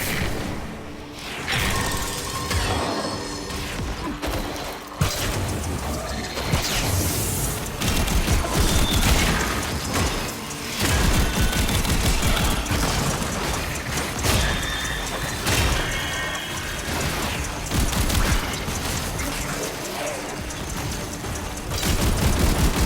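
Dense, nearly continuous gunfire from the video game Warframe, with rapid bursts, booms and whooshes layered loudly throughout without pause.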